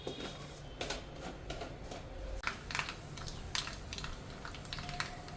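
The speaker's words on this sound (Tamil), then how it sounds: "எண்ணெய் காஞ்சிருச்சு, கடுகு போட்டுக்கலாம்." Mustard seeds crackle in hot oil while banana stem poriyal is cooked, making a soft, dense patter of tiny pops and sizzle that runs continuously and fairly faintly.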